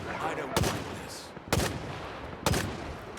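Enemies in a zombie shooter fire three evenly spaced, sharp gunshots about a second apart over a low background bed.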